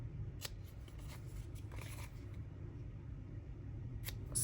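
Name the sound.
scissors trimming paper edges for junk journal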